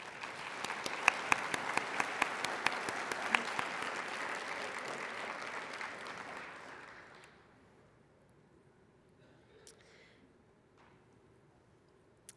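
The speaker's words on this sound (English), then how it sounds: "So let's give a round of applause" A conference audience at a PKU association gathering applauds its sponsors with brisk, crisp clapping that holds steady for about seven seconds, then fades to a quiet room with a few stray claps.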